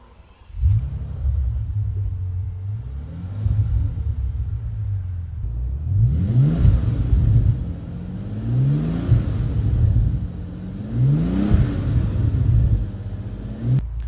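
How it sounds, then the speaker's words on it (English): A 2006 Bentley Continental Flying Spur engine cranks, spools and fires into a deep rumbling idle, then revs several times with rising and falling growls, close by. "When it starts up, it kind of spools itself before it bursts into life."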